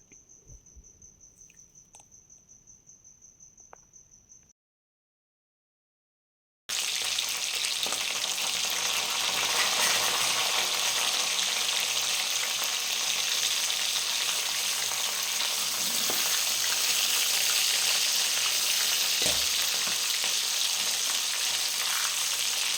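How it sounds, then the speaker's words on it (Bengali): Fish heads frying in hot mustard oil in a pan, a loud, dense, continuous close sizzle that starts abruptly after a quiet stretch with a thin high tone and a short silent gap. "এরপর আমি মাছের মাথাটা ভেজে নেব তো মাছের মাথাটা আমি অল্প অল্প করে দিয়ে দিলাম"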